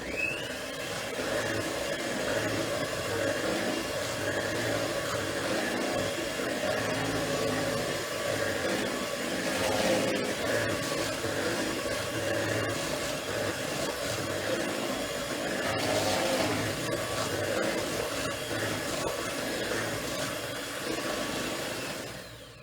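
An electric mixer whirls continuously through a Dominica Christmas fruit cake mixture with spices and lime zest, a steady close whir holding for over twenty seconds with slight rises in intensity and no voices.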